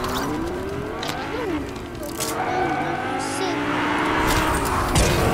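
A Lamborghini drives in Fortnite, its engine roaring near and loud with squealing tires, while people talk over it.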